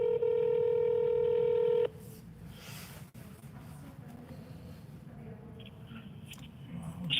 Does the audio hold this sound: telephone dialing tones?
yes